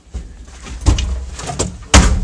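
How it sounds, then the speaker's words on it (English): A vacuum truck's cab door slamming shut, with a couple of solid metallic thunks and rattles close by, the last impact loudest. "Door shut."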